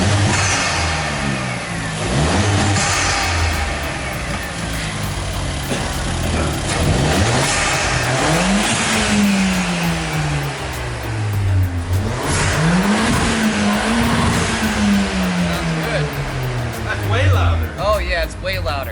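Ford Fiesta ST fitted with a Whoosh Motorsports short ram intake, its engine revving up and down repeatedly in loud, close swells over a steady rumble, with talk underneath.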